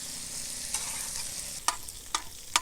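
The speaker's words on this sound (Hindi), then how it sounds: "इसको भी यहाँ पे हम तकरीबन 1-2 मिनट चिकन के साथ अच्छी तरह फ्राई करेंगे, भून लेंगे" Chicken with garlic and ginger frying in oil on a tawa gives a steady, close sizzle, broken by a few sharp scraping clacks of stirring toward the end, with no talking.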